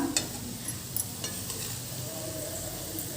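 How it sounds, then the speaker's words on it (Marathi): Onion frying in plenty of oil in a wok until dark, giving a steady close sizzle with a few stirring scrapes near the start. "हा कांदा मी इतपत असा काळपट होईपर्यंत भाजून घेतला आहे तेल मी भरपूर वापरलं आहे"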